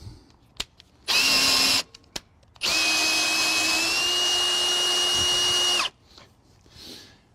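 A drill drives a Lippert quick-drop tongue jack to lift a trailer, whirring loudly in a short burst and then a longer steady run that ends abruptly, with light clicks between.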